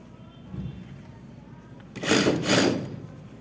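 A sewing machine stitches a skirt seam at a 2.5 to 3 stitch length, a short close burst of whirring from about two seconds in after quiet handling noise.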